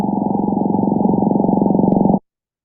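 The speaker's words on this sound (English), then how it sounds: "Here is a rockfish, the boccaccio." Underwater recording of a bocaccio rockfish call: a loud, low, rapidly pulsing grunt like a revving motorboat, held steady for just over two seconds before stopping abruptly.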